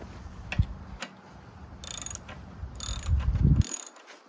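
Wrench working a corroded, rusty nut on a Craftsman push lawnmower's recoil starter, with ratcheting clicks in bursts, scraping metal and a few knocks, close and fairly loud.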